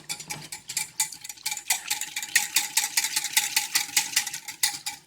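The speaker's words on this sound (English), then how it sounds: "go ahead and mix that all up" A utensil stirs and mixes veggie ramen stir-fry ingredients dressed with sesame oil, a quick rhythmic run of close scraping and clinking strokes against a bowl, without any talking.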